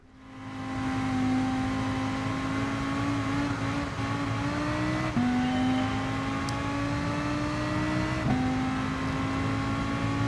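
Race car in Gran Turismo Sport at the Red Bull Ring in rain, a steady whining engine drone rising in pitch through the gears with brief dips at each shift, heard from inside the car.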